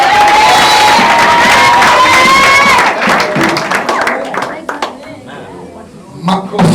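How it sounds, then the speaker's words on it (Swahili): An audience at a Pentecostal youth conference church service claps and cheers for the young people, loud and dense at first and then thinning into scattered claps as voices rise over it. "Makofi mengi kwa vijana wetu."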